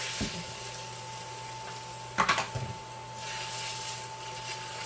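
Egg substitute cooks in a warm pan, giving a soft, quiet sizzle with a brief clatter of stirring partway through.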